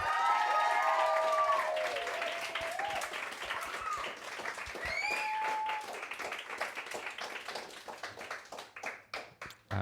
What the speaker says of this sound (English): Could you take that applause and double it as we welcome to the stage